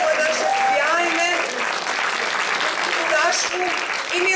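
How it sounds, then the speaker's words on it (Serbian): An audience at a sevdah music festival claps steadily and warmly throughout, while a host speaks over the applause. "Molim vas za još jednim aplauzom."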